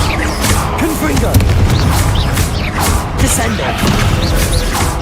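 Blasting-spell explosions in the Hogwarts Legacy video game, played on hard difficulty: repeated booming bursts over a dense, busy game soundscape, with a voice calling out spells throughout.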